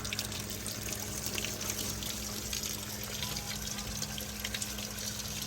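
Dirty water spilling over the rim of a koi pond filter barrel and running toward a city drain outdoors, a steady, close trickling gush that continues unbroken with no talk over it.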